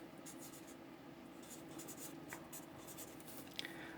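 A pen writes on paper during a math lesson, giving faint, close scratchy strokes in short repeated bursts over a soft steady background hiss.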